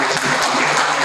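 Dense, steady applause from a lecture audience after a guest talk on IT governance, loud and close and filling the whole short moment without a break.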